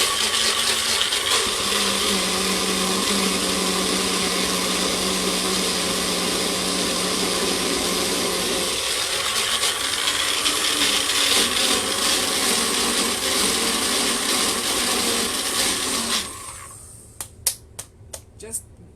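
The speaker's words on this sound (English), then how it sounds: "Just show your blender who's boss." A blender roars continuously at close range for about sixteen seconds blending vegan ranch dressing, its motor pitch shifting partway through, then stops, leaving a few sharp clicks.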